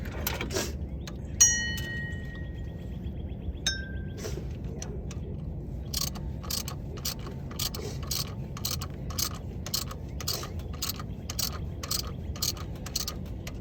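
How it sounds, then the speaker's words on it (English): A hand ratchet tightens the water pump bolts on a 2004 Jeep Liberty, first in a few scraping turns, then in a long run of rapid, evenly spaced clicks up close. "Ratchet back to my socket. Righty tighty."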